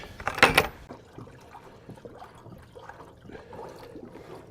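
Water poured into the cooling system of an International 1110 tractor, a brief loud splashing gush at the start followed by faint trickles and dribbles.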